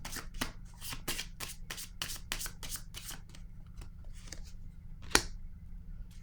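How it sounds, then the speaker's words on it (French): Tarot cards are handled and shuffled over a table in a rapid series of soft, papery flicks, ending in one sharper slap as a card is laid down, close and fairly quiet. "je vais déposer une carte ici sur la vérité"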